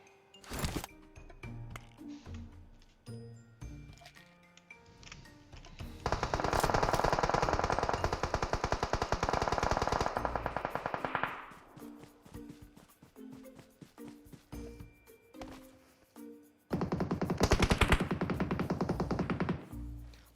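Gunfire in the mobile battle royale game PUBG Mobile: scattered single shots, then two long bursts of rapid automatic fire, the first lasting several seconds and the second shorter near the end.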